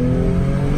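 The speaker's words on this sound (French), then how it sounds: "on va se permettre un dernier petit kickdown" A Mercedes C43 AMG engine revs hard under kickdown acceleration, a loud, close, steady roar with no talk over it.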